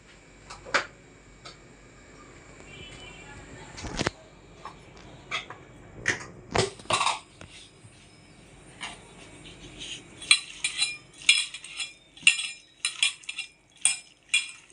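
Sago dosa batter with green chillies, curry leaves, coriander, cumin and salt being stirred and pressed in a bowl, giving close, scattered clinks and taps of a spoon against the bowl, growing busier toward the end.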